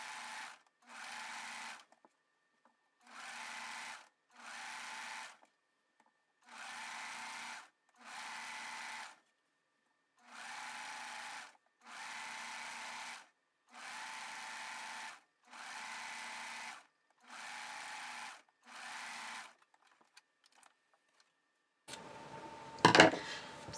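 A sewing machine stitches elastic onto a pair of shorts in about ten short, steady bursts separated by brief pauses, running close and clear, followed by a louder rustling handling noise at the end.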